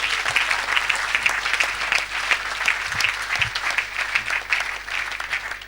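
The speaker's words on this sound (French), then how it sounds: "Est-ce qu'on peut acclamer pour Jésus-Christ?" An audience at a sermon applauds and cheers for Jesus Christ, with dense continuous clapping mixed with cheering voices, loud and close, holding steady for several seconds.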